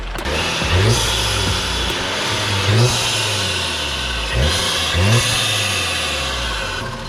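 An Audi TT engine fitted with a performance intake revs up close several times in short bursts, rising and falling over a steady idle, each blip about a second apart.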